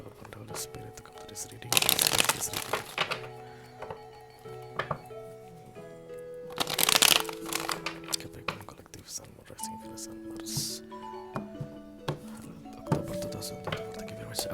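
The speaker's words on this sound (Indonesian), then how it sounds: "Aku akan ambil 4 kartu dari sini Capricorn." Tarot cards shuffle in bursts of riffling and flicking, two loud rounds and lighter handling between them, with soft chimes of background music and a voice speaking quietly throughout.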